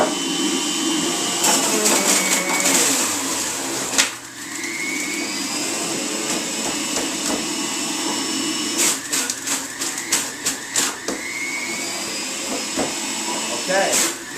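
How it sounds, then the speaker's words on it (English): A juicer runs continuously while fresh juice is made in a kitchen, giving a steady, loud motor whine with a few brief bumps and rattles partway through. Speech is mixed in at times. "I'll make this juice"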